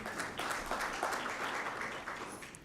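Applause rises from an audience at a World Malaria Day event, a fairly faint, steady patter of many hands clapping for a couple of seconds, slowly tapering off without speech.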